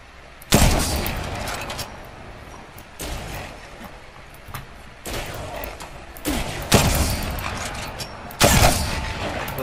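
Bursts of gunfire in the battle game Apex Legends, several loud broadband volleys spaced a second or two apart over a steady background rumble, with no talk.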